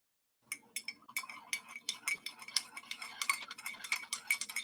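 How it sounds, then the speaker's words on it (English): A spoon stirs coffee in a cup, giving a steady run of light clinks and taps against the sides, close and fairly quiet, with no talking. "Always make sure to stir your coffee properly."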